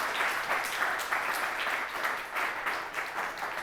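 A church congregation applauds at a Palm Sunday service, steady dense clapping with rhythmic surges, sustained throughout at moderate loudness with no talk over it.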